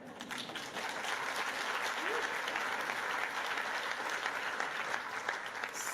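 Audience applause fills a conference hall at a gender equality event in Oslo, a steady, dense wash of many hands clapping that holds at an even level throughout.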